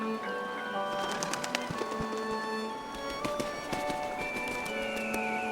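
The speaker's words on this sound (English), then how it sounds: "The wetland in late autumn pulsates with a chorus of bird calls." Many birds call together in a late-autumn wetland, overlapping chirps, whistles and clicking notes forming a busy, steady chorus at moderate distance with no talk.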